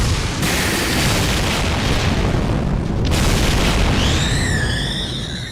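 Barrage attack impacts in the video game Fate/Grand Order: a roaring wall of booming hits swells through the clip, with a fresh heavy blast near the middle and shrill whistling effects rising at the end.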